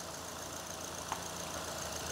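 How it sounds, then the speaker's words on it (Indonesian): A 2014 Suzuki Ertiga GX engine idling, a faint steady hum with a constant even tone and a single tiny click, heard alone without talk. "Dan ini untuk suara mesinnya"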